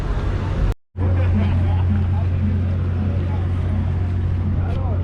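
A boat's engine idles at the dock in Utila, Honduras, giving a steady low droning hum with a constant deep tone. The sound cuts out briefly near the start and then continues evenly.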